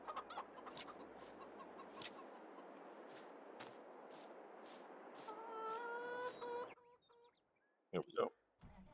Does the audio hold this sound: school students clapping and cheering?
no